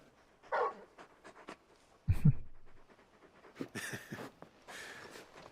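A very large dog in the video game Final Fantasy XVI pants in a few short, breathy bursts, close and fairly quiet, separated by brief silences, with no one talking.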